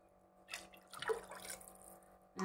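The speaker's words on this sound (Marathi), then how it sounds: "आता आपण 3 कप पाणी टाकणार आहोत।" Three cups of water poured into a cooking pot for palak pulav, a soft brief splashing pour in a quiet kitchen, followed by a faint clink.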